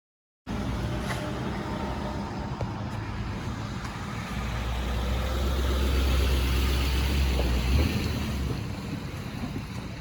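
Car interior while driving to the garage: a constant low engine and road rumble with wind noise, swelling slightly in the middle, with no talking.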